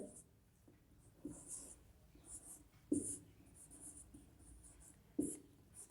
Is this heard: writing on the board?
yes